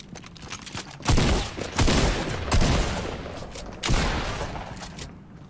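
Gunfire in an arena shooter video game, several loud bursts of rapid shots a second or so apart, close and punchy, with short gaps between volleys.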